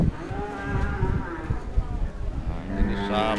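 Female Simmental cattle at a cattle market give drawn-out moos that rise and fall, heard near and fairly loud over low background noise.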